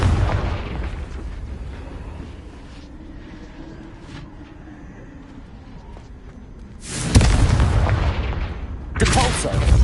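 The Confringo fire spell from the game Hogwarts Legacy sets off two loud booming blasts late on, each a heavy burst with a rumbling tail, after a stretch of quieter rumbling.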